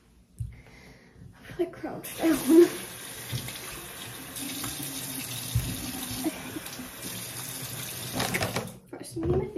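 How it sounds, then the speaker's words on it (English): A bathroom tap runs steadily into a sink while the face is wetted, a continuous close hiss of water with brief splashes and breathing, and a voice speaks early on. "first, I'm gonna get my face wet"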